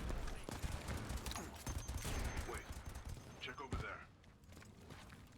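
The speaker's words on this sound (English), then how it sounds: "Oh, they shooting." Rapid bursts of gunfire crackle and pop through a firefight in The First Descendant, mixed with clanking mechanical effects, while someone talks over the shooting.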